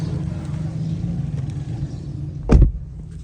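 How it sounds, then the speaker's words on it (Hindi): A vehicle waits and passes at a road crossing, giving a steady, close engine rumble throughout, with a brief louder thump near the end. "अच्छा हुआ गाड़ी आई हुई है क्रॉसिंग में"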